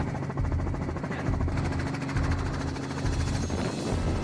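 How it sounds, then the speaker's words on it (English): A helicopter's engine and rotor drone steadily through fog over central Italy, a continuous rumbling throb with a rapid beating pulse, fairly close and unbroken throughout. "The sound of helicopter engines cuts through the mist."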